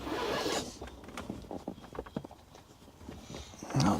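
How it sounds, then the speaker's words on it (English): Close, scratchy zipping rasps as a zipper closes on a Ford Bronco seat cover, in short bursts, uneven and quiet between pulls, with a louder rustle at the end. "Put the zipper together."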